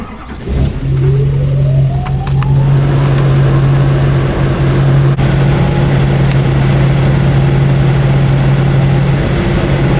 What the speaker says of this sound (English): So let's go ahead and start the truck up and see where the AC's at now.